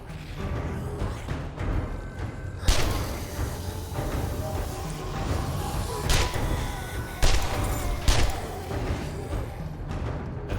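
Sharp bursts of SMG fire in the zombie survival game 7 Days to Die, loud repeated cracks and thuds in uneven clusters over a busy, noisy background.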